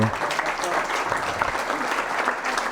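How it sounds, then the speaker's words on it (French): A short burst of audience applause at a talk, many hands clapping together, steady and moderately loud throughout. "on peut l'applaudir"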